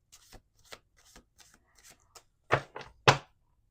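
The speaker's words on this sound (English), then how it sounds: "Okay, last shuffle." Tarot cards being shuffled by hand, a run of soft riffling taps that builds into three louder, close bursts near the end, with no one talking.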